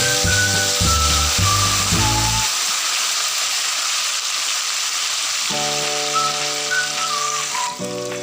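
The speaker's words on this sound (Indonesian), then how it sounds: "Sekarang kita goreng cabenya ya." Red chili peppers for Minang dendeng batokok lado merah hiss and crackle in hot oil, a steady close sizzle running throughout beneath background music.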